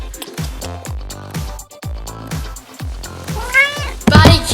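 A cat gives a few drawn-out meows near the end, over steady background chatter and play noise in a toy-filled room.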